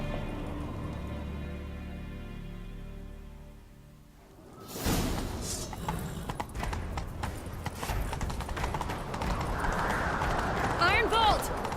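A horse gallops in The Witcher 3 video game with a steady, rapid clip-clop of hooves and rushing movement, starting after a short stretch of low background sound. Voices talk over the hoofbeats.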